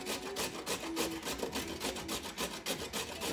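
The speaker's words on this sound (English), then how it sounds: "You just rub it down your shredder." A washed raw carrot rubbed down a large kitchen shredder makes rapid, rhythmic rasping strokes, close and steady for several seconds.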